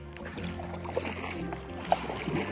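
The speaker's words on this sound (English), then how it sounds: "paddle like a pro, Ashley." Kayak paddle strokes dip into calm water on a trip near Page, Arizona, giving soft irregular splashes and trickles, faint and close, with a quiet murmur of outdoor ambience.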